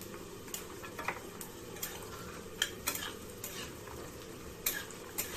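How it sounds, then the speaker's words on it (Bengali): Steady oil sizzle from small homemade lentil dumplings frying in a small wok, with occasional light clinks and scrapes of a utensil against the metal. "ছোট্ট কড়াই নিয়ে নিয়েছি এটার মধ্যে বড়িটা ভেজে নেব"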